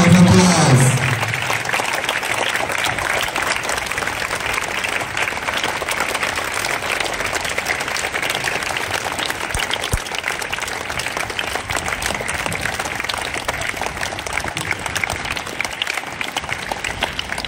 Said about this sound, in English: Let's welcome our dignitaries. With a huge round of applause.